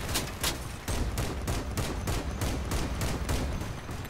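Rapid shotgun blasts from a vehicle combat battle in the video game Crossout, a steady run of about a dozen sharp, loud reports firing close in quick rhythm, with no voices.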